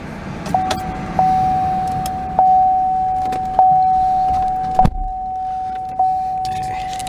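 Electric power windows running inside a GMC Denali SUV, a steady motor whine that starts and stops in several short repeated runs, close and clear with no talking.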